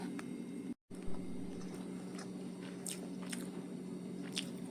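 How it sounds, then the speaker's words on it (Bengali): Close, quiet chewing of rice mixed with mashed bottle gourd leaf paste: soft, squishy bites and wet mouth sounds repeating irregularly, with no talking. "লাউ শাকের পাতা বাটা দিয়ে একটুখানি খাই"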